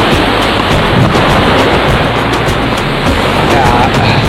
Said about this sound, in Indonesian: ini pantainya